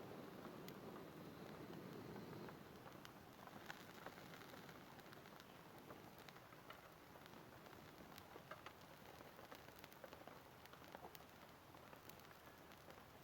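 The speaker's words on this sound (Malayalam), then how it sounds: "മഴത്തുള്ളി വന്ന് വീഴുന്നുണ്ട്," Raindrops falling at a riverside camp during outdoor cooking on a portable stove make a soft, steady patter with scattered faint taps, quiet and continuous, with no voices.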